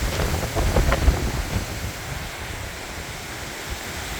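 Strong gusting wind from Tropical Storm Debby in northern Vermont, roaring and buffeting the microphone, loudest in the first two seconds and then easing to a steady rush, with no talk.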